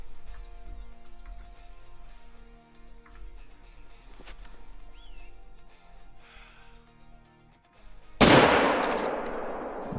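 A single loud rifle shot rings out near the end during a hunt in the Call of the Wild video game, after a quiet outdoor stretch with faint ambient game sounds, the blast decaying slowly.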